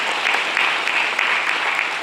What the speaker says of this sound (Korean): 여러분 박수로서 한번 같이